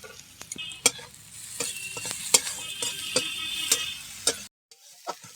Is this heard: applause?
no